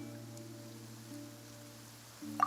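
Steady rain falls in the Genshin Impact game world of Fontaine, a soft constant patter under a low ambient hum, with a brief brighter sound at the end and no talking.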